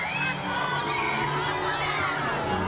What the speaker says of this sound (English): Make sure you cheer for the one you want to win.